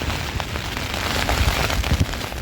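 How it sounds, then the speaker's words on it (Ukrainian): Heavy rain during a storm pours steadily, a dense, continuous hiss of drops drumming on a surface with no pauses and no voices. "Лупаше дощ."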